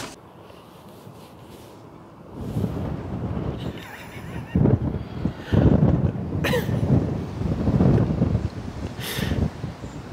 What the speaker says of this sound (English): It's very windy though.